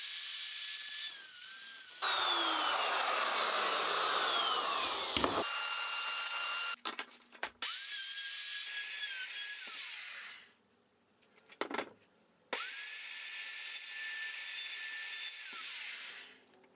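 A plunge router guided by a mortise-and-tenon jig cuts into wood in several high-pitched whining bursts, with spin-ups, winding down and short gaps between plunges, close and loud with no talk.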